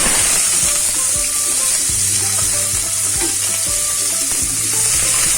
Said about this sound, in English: When the oil gets heated, add chopped onions